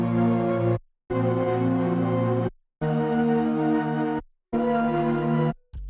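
A dark trap beat melody plays from music production software, sustained synth chords in four even blocks separated by short gaps of silence, loud and steady with no talking.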